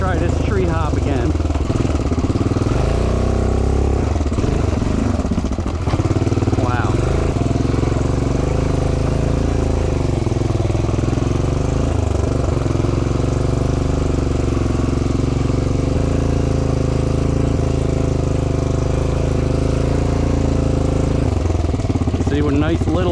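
A small four-wheeler ATV, fitted with new front shocks, drives over a tree hop; its engine drones loud and close for the whole stretch, revving and labouring unevenly as it climbs, with someone talking over it.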